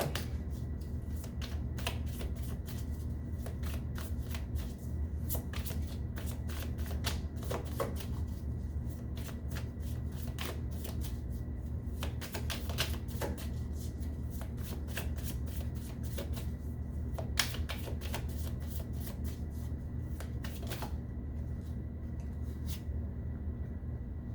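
Tarot cards shuffled and drawn by hand in a steady run of soft riffling and snapping card flicks, continuous and close throughout with no talking.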